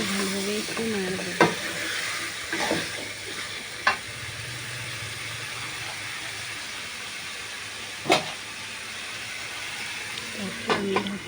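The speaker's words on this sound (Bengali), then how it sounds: "আলু দিয়ে ভালোভাবে একটু নাড়ব।" Chicken and potato curry being stirred in a pan gives a steady sizzle, with a few sharp scrapes and clicks of the spoon at irregular moments.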